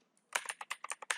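Quick, crisp keystrokes on a computer keyboard, about a dozen close taps in an uneven typing rhythm after a brief silence.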